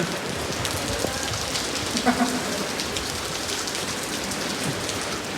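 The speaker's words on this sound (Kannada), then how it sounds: "ವಾ ಮಳಿ ನೋಡ್ರಲ್ಲ ನೋಡ." Heavy monsoon rain in Bengaluru pours steadily, a dense, unbroken hiss of drops drumming on surfaces, with no voices.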